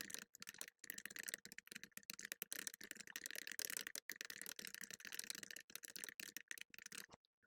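Rapid clattering of computer keyboard keys, typing steadily and close up with short pauses, no voices, while English text is entered for a PowerPoint 2016 exam exercise.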